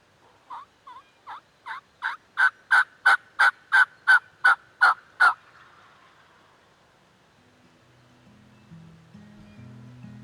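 Wild turkey toms strutting on a property in Maine give a series of about a dozen rapid, rising gobbling calls. The calls are loud and close, stop abruptly, and are followed by a faint low rumble.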